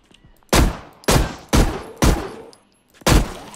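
Pistol shots in a zombie video game: five sharp, loud reports spaced about half a second apart, each cracking and decaying quickly, with a short pause before the last, and no talk over them.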